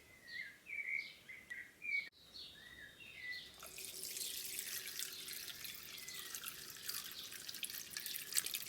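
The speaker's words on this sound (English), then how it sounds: "fill up the water until it reaches the height of the plate" Water from a tap runs into a pot of dolmades, a steady near rush after a few faint drips, with birds chirping softly in the background at the start.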